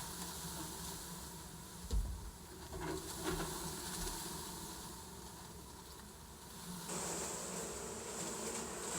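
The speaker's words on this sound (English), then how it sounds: "here are all the bees. And it's about to get busy." Bees buzzing during the hiving of a two-queen side-by-side brood colony, a steady low insect drone throughout with brief thumps and a shift in texture near the end; no one speaks.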